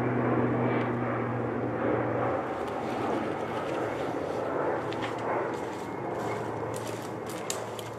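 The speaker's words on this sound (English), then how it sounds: "Of course, we got an airplane flying over now." An airplane passes overhead outdoors during a coyote calling hunt, a steady broad engine roar lasting throughout, fairly loud at first and easing slightly, with some faint rustling on top.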